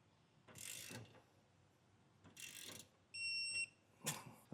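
A ratchet wrench tightening U-bolt nuts while fitting Air Lift LoadLifter 5000 Ultimate rear air helper springs. Three short bursts of close clicking are separated by pauses, and a brief electronic beep sounds between the second and third.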